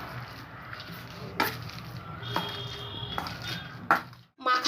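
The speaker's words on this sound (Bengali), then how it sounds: "এই দিয়ে এটাকে খুব ভালো করে আমি মেখে নেব।" Raw banana kofta mixture with sugar and chopped coriander is mashed and kneaded by hand in a bowl, soft squelching broken by a few light clinks of the bowl, close and fairly quiet.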